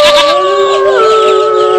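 A single sustained, loud sheep bleat, drawn out and wavering, close up with no talking, in an animated children's tale.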